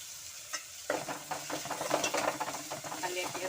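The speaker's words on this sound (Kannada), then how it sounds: "ಒಂದು 2 ನಿಮಿಷ ಚೆನ್ನಾಗಿ ಈರುಳ್ಳಿ ರೆಡ್ ಆಗೋ ತನಕ ಫ್ರೈ ಮಾಡ್ಕೊಳ್ಳೋಣ." Onions frying in a pan for a beans palya, a steady near sizzle that swells after a short pause and carries on with irregular stirring scrapes and clicks, with no one talking.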